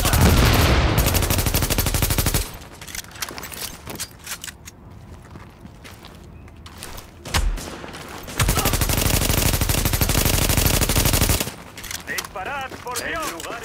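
Gunfire in The Division video game, with rapid automatic weapon bursts firing in long sustained volleys separated by briefer lulls that hold scattered single shots and clatter, loud and close throughout, and in-game voices calling out.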